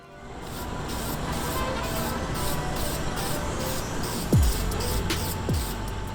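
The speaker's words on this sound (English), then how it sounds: "Now we're gonna go outside and spray some Bulldog adhesive promoter." Continuous hissing aerosol spray of Bulldog adhesive promoter on sneakers outdoors, pulsing slightly with short bursts, loud and close, with a couple of faint clicks near the end.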